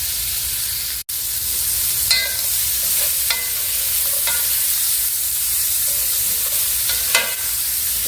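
Smoked sausage sizzles steadily in a pan, close and continuous, with a few scraping stirs as the pieces are moved around to brown.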